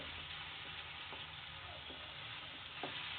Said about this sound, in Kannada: ಈ ಕಾಳನ್ನ ಹಾಕಿದ ನಂತರ ಒಂದು 2 ನಿಮಿಷ ಫ್ರೈ ಮಾಡ್ಕೊಂಡ್ರೆ ಇದು ರೆಡಿ ಆಗುತ್ತೆ